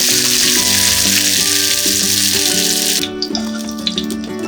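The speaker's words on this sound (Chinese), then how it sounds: "倒入葱段40克，煸炒大约30秒" Scallion segments stir-fry in a wok with star anise over medium heat, a loud steady sizzle with scraping of the spatula, ending abruptly as the sizzling drops away near the end.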